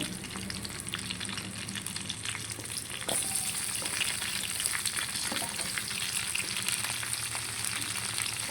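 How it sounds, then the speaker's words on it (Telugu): Green chilies and onion fry in hot oil for a white brinjal kurma, giving a constant crackling sizzle up close. It grows louder partway through as more goes into the pan, with faint stirring and no one talking. "ఆయిల్లో పచ్చిమిరపకాయ వేసాం కాబట్టి పైగా పేలుతుంది"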